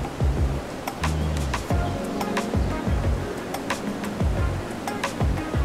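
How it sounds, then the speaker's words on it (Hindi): The Rain Vortex, the huge indoor waterfall at Jewel Changi Airport in Singapore, gives off a continuous rushing roar that fills the space, with faint clinks and a busy indoor hum mixed in. "it is the world's largest indoor waterfall"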